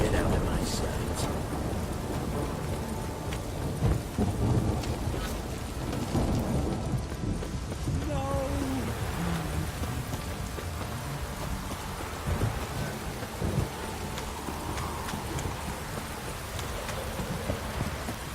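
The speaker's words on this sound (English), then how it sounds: "This downpour's a bastard, it is." Heavy downpour with rolling thunder in The Witcher 3 video game: a constant hiss of rain runs throughout, with low thunder rumbles, while character voices talk over the storm.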